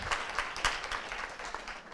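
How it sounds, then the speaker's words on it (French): Brief, fairly faint audience clapping fills a room at a university research forum, a dense patter of many hands without voices. "je vous demande d'applaudir"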